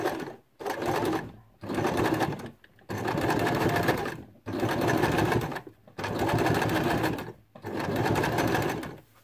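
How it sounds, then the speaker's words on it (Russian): A sewing machine with a twin needle stitching knit fabric slowly, running in six even, steady whirring bursts with brief pauses between them, close and clear with no talking. "Прострачиваем мы не спеша, так как, чтобы исключить также пропуск стежков."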